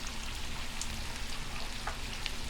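Curry leaves fry in hot oil for a vegetable curry, giving a steady, dense sizzle close up with occasional small pops and crackles and no voices.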